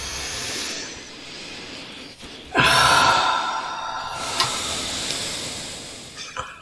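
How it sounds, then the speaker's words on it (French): A slow, deep breath drawn in and then let out during a guided relaxation exercise, a broad airy hiss that swells, holds, and fades, heard alone at close range with no talk. "Je vais prendre une grande inspire,"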